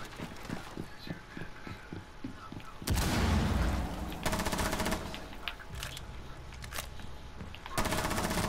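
Gunfire in the video game Rainbow Six Siege: a quick, evenly spaced string of sharp shots, then louder, denser bursts of automatic fire, close and prominent with no talking.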